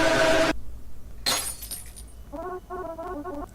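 A glass bottle drops and shatters in a video game, a sharp crash of breaking glass with bright tinkling debris, followed by a short chiming musical cue.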